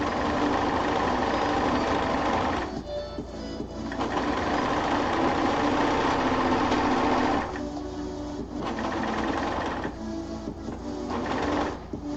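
A serger sewing machine runs steadily at close range, a dense mechanical whir broken by a few brief pauses and restarts, with no voices over it.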